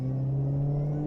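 A Maserati GranTurismo's engine revs under acceleration, a brief, close, steady low drone with strong rumbling harmonics that builds slightly over about a second, with no talking.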